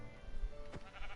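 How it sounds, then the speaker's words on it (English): A sheep bleats once in a hardcore survival video game, a short bleat at moderate level over a busy background of game sounds. "Oh, here's another sheep."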